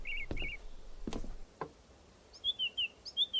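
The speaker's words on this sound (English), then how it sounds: "On the opposite side of the tower on the roof, a small thrush." Several short, high thrush chirps from a rooftop, a few paired calls early on and a rising-falling run of tweets near the end, with some soft knocks in between.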